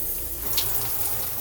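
Water runs from a large shower head inside a Holiday Rambler RV, a steady hiss at reduced pressure with low rumble beneath, continuous and fairly near.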